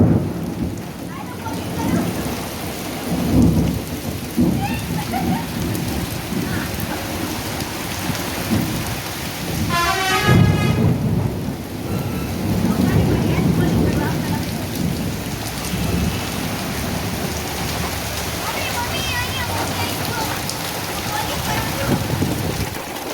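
Heavy rain pours steadily throughout with rolling thunder rumbling in the low range, and a brief whistle-like tone briefly cutting through midway; no clear talk above the downpour.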